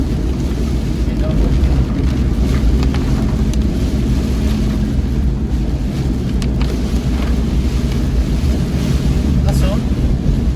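Strong storm wind roars against the microphone with heavy rain during a typhoon on a trip toward Tagaytay, a loud, dense, unbroken rush with occasional gusts and faint passing traffic.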